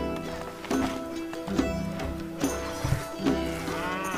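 Several cows moo in a row in the strategy game Stronghold, with repeated low lowing calls rising and falling over a steady game ambience at moderate volume.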